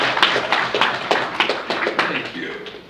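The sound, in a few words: audience applause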